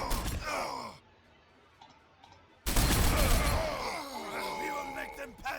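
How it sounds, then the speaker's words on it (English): Gunfire and combat effects from the Warhammer 40,000: Sanctus Reach strategy game, loud dense bursts before and after a short quiet gap, with a voice talking at the start. "we'll just try to gun these guys down"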